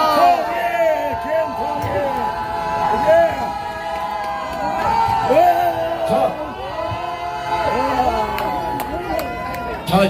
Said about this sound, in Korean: 지금 우리의 함성을 보여주자고요.